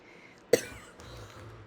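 A single sharp cough bursts out near the start, followed by quiet room noise and faint low rumbling.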